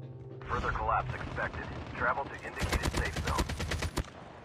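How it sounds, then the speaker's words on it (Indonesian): Gunfire in Call of Duty Mobile on a battle royale Alcatraz map, starting with bursts under a player's voice, then a rapid automatic volley of sharp, close shots before cutting off. "suara tembakan di mana-mana, gile"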